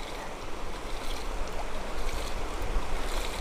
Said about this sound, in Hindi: इसे अपने प्यार से बाइक को पानी मार रहा है।